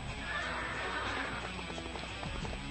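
Horses in the video game Dynasty Warriors 5 Empires neigh loudly over a busy battlefield din, with rapid clip-clopping hooves and clashing noise filling the background.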